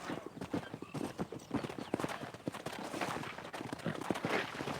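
Horse hooves clip-clop in a rapid, uneven rhythm in Red Dead Redemption on a ranch, several horses moving close by with sharp, clear hoof strikes over a soft background bed.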